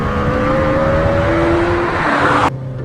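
Lamborghini Temerario with its high-revving hybrid V10 under hard acceleration on track, a loud rising engine howl climbing steadily in pitch before cutting off abruptly, heard from inside with no talking.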